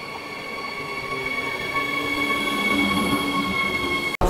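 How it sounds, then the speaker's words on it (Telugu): Commuter train in Europe running on rails, a steady rumbling roar with high whining wheel tones, loud and continuous from inside the carriage, cut by a brief sharp break near the end. "ఇప్పుడే ట్రైన్ ఎక్కాము"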